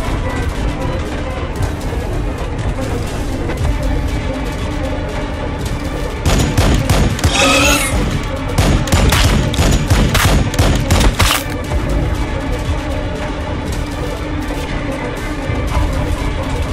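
Plasma weapons fire in the Warhammer 40,000: Battlesector strategy game, with loud, dense bursts of gunfire and crashing impacts rolling over a constant battle din, heaviest in the middle stretch.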